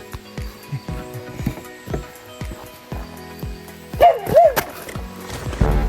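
A dog barking on a woodland trail walk toward a UK waterfall at Kinder Scout: several short barks and yips spaced irregularly, fairly close, with footstep-like thuds and no speech.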